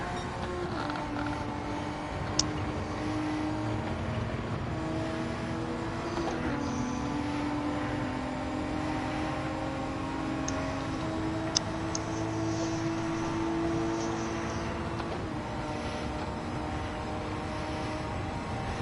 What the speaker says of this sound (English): it's basically a GTR engine, I think, in these things